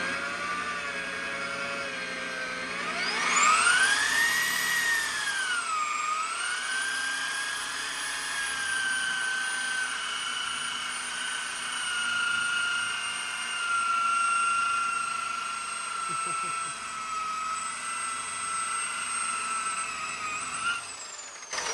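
A power buffer polishing the paint of a 1962 Triumph TR4 spins up with a rising whine, then holds a steady high-pitched drone close by, its pitch wavering slightly under load.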